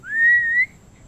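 A single rising-then-steady whistle, clear and close, held for about half a second and then stopping, performed by a storyteller mid-tale.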